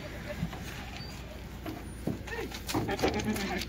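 Kathiawadi goats bleat in a busy livestock market, short calls rising over steady crowd noise and nearby voices.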